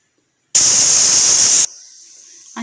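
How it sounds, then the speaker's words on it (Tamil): A pressure cooker on the stove for mutton biryani gives a loud, close, steady hiss of escaping steam lasting about a second, then drops to a softer lingering hiss. "ஒரு 5 விசில் வரட்டும்"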